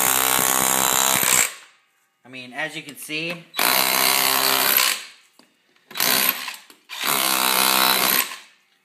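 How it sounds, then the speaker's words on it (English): A DeWALT DCH213L2 20V cordless SDS rotary hammer chips into a concrete block in three loud, close bursts of rapid hammering separated by pauses, with someone speaking briefly between bursts. "we'll chip off a little bit of this block"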